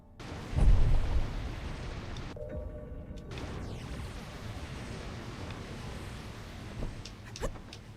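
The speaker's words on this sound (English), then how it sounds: "Is that what the fireworks are for?" Fireworks exploding in the game Vigil: a deep boom near the start, then a sustained rumbling crackle and a few faint pops later, with no speech.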